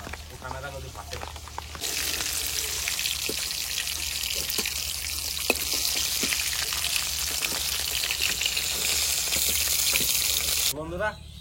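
Hilsa fish pieces fry in hot oil with a loud, continuous crackling sizzle that starts suddenly and holds steady for about nine seconds before cutting off, with faint kitchen noises around it.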